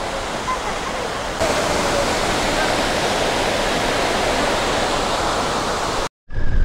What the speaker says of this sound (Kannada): ಸಖತ್ತಾಗಿದೆ ಫಾಲ್ಸು